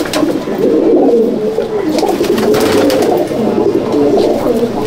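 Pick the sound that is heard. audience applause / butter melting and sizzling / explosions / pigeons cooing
pigeons cooing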